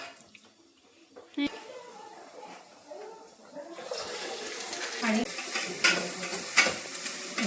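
A generous pour of oil heats in a pan for a pasta dish on a home stove. It is quiet at first, then a close, crackling sizzle builds and keeps going, with sharp clinks and a person talking over it.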